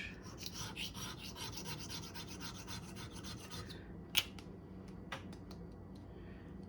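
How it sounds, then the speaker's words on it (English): A razor blade scrapes dust, rust and dirt off a rusty knife's spine and edge in steady rasping strokes for several seconds, close and quiet, then stops, leaving a few sharp ticks. "all that dust, rust and dirt that I just got off with just the razor blade in just seconds with the razor blade"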